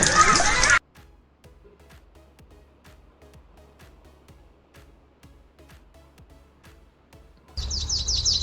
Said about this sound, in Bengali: ময়না পাখি বলো কথা